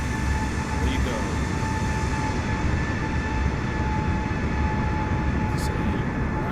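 An airliner's engines roar steadily at full throttle during a takeoff roll in a flight simulator, a dense continuous rumble with a faint high whine and no change in level.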